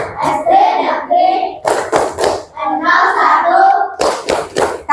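A group of elementary school children clap in rhythm while chanting together, sharp bursts of hand claps alternating with loud unison voices close by.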